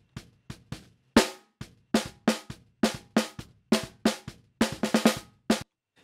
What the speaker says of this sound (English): So we're getting some kick drum in there. You can hear the dum, dum, dum, dum. And that is the bleed from our kick drum in here.